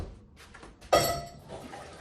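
Hot water poured from a pot into a container to top up soaking water for palabok noodles, a brief splashing gush starting sharply partway through and fading into a softer trickle, close by in a kitchen.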